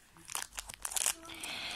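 Plastic packet crinkling as it is handled and torn open, a pink wrapper around a toy kitten in milk, with bursts of close rustle and crackle that fade to a softer hiss.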